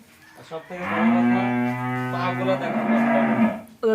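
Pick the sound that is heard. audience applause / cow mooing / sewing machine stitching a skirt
cow mooing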